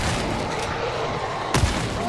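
A shotgun fires in the game Warhammer 40K Darktide: one sharp, heavy boom bursts out of a dense, busy battle bed that carries on without a break.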